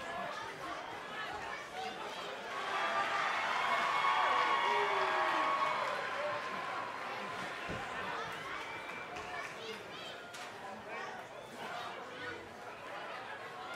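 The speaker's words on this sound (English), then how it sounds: "Listen to this crowd, guys. They're fired up for this one." Wrestling arena crowd at NXT War Games 2021, a dense, sustained roar of chatter and cheering that swells, then settles into a steady murmur, with scattered claps and shouts throughout.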